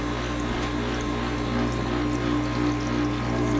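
An Inland glass grinder used for jewelry work runs wet, with a steady motor hum and a constant watery wash that holds even and close throughout, with no talking.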